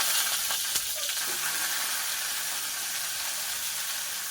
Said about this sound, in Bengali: এই তেলের মধ্যে এই ফুলকপিগুলো একটু ভেজে নেবো হালকা করে